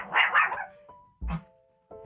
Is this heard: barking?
yes